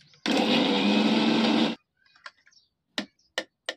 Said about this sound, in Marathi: हे वाटून घेते जरा.